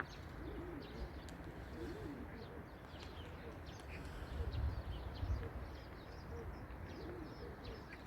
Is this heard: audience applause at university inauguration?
no